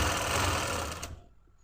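A sewing machine stitches a trouser leg in a fast, loud whirring hum of needle strokes lasting about a second, then it stops and leaves near silence.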